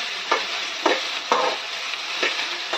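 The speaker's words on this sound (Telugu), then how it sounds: "ఆయిల్లో బాగా వేయించుకోవాలండి ఇలా బెండకాయలు" Okra (ladyfinger) frying in hot oil for a masala, a steady close sizzle broken by several sharp stirring scrapes in the pan, with no talk.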